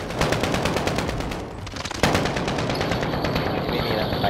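Shotgun fire in Call of Duty: Modern Warfare, a rapid string of loud, evenly spaced shots with a brief lull in the middle before the firing resumes.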